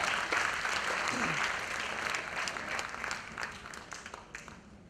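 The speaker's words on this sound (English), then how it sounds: "With a huge round of applause, let's welcome these two leaders of the education sector" A seated audience at an education panel discussion and product launch applauds steadily as guests take the stage, a dense, moderately loud wash of clapping that gradually thins toward the end.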